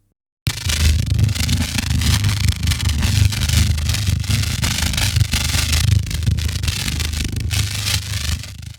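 A designed buzz sound effect, heavily processed with sidechain modulation and filtering, forms a dense, continuous gritty drone with a steady low hum beneath, loud and unbroken after a short silent start.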